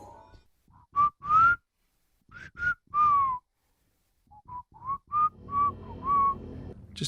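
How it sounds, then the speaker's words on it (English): A person whistles aimlessly in short, wavering bursts with pauses between them, close and clear, drifting in pitch without forming any melody. "Just whistling with no intent,"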